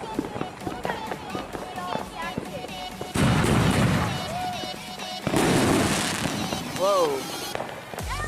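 New Year's Eve fireworks go off outdoors as a long string of crackling firecracker pops and booming bursts, with two loud sustained volleys and whistling rockets, while people talk over them.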